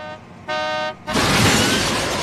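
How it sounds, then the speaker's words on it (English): A car horn blares briefly before a loud, sustained crash of impact and debris as a vehicle slams into a police squad car. "Hey! You just hit a squad car!"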